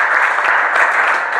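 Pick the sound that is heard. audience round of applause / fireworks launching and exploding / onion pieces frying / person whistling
audience round of applause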